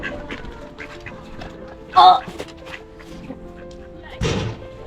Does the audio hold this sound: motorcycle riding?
no